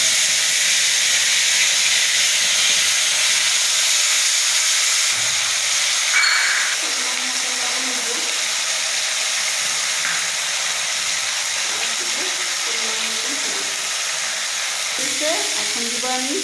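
Panch phoron, green chilli paste, and cumin-ginger paste frying in hot oil for an eggplant posto dish, giving a steady loud sizzle and hiss throughout with occasional stirring scrapes.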